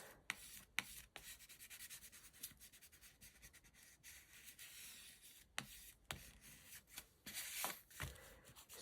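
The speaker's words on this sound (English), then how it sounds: "Just really burnishing this down." A paper label on a handmade scrap-paper envelope is burnished down by hand, giving soft, close, dry rubbing strokes in uneven bursts with brief quiet pauses, faint and with no talking.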